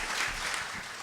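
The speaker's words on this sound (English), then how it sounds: "let's give them a round of applause, please" Audience applause for a panel at a public forum on protecting national marine sanctuaries, a steady wash of clapping that holds at an even level for about a second.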